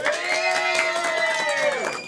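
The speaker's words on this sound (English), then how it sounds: "that was clearly a louder applause for Jill" A crowd at an improv comedy show cheers for the performer Jill, with loud, continuous whooping voices and light clapping that hold steady before trailing off.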